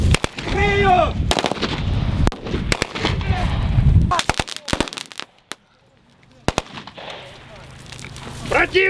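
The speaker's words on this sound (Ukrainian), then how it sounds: "Були багнюка та дим, вибухи та вогонь зі стрілецької зброї." Sharp bursts of small arms fire and heavy explosions crack in irregular volleys, with a lull of quiet before more distant shots and rumbling.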